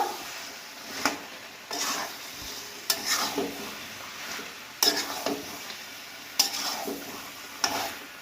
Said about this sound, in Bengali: আলুগুলো দিয়ে একটু কষিয়ে নিচ্ছি, ভালো করে মিশিয়ে দেব।